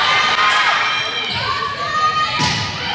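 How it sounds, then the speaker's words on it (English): Crowd noise at a girls' high school volleyball match in a gym, with a continuous wash of shouting and cheering voices, surges near the start and end, and a few dull thumps of the ball. "Crowd trying to push St. Mary's even further here ahead."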